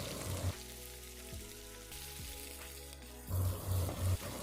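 Chopped onions sauté in hot oil with fennel seeds, mustard seeds and urad dal, a soft crackling sizzle under a steady kitchen hum, louder at the start and end.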